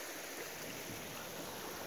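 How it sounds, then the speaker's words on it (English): A forest stream on the Appalachian Trail flows with a steady, full rush of water, loud and continuous, with no voices over it. "Pretty stream. So much water here."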